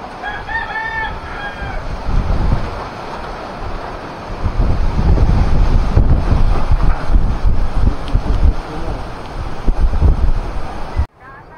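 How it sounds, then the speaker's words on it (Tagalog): Strong wind with rain in Cebu buffets the microphone in a loud, continuous roar that swells and stays heavy throughout, while a rooster crows near the start. "Kusog ang hangin."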